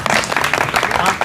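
Audience applause for Ratanlal sir at a Bahujan YouTubers meet, a dense, loud, continuous wash of many hands clapping close by, with no talk over it.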